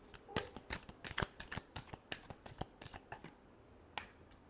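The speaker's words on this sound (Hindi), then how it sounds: "last shuffle" Tarot cards riffled and tapped together in a final shuffle, a quick run of crisp close-up slaps and flutters that thins out toward the end, with no voices.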